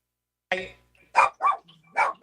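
A dog barks several times in quick, separate bursts, close and fairly loud, with short gaps and no talk over it.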